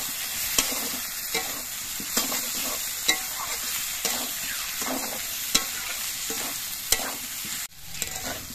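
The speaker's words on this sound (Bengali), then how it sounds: "এবার আলু দিয়ে আর মশলা দিয়ে আরও কিছুক্ষণ কষিয়ে নিতে হবে।" Fried potatoes stir-fried with spices in a pan for a fish curry, a steady close sizzle broken by repeated sharp scrapes of the spatula every second or so, no voices.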